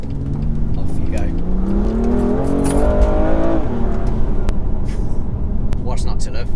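A BMW M2 Competition revs up hard under acceleration, its engine note climbing steadily for a few seconds before easing off, heard from inside with windows open over road and wind noise.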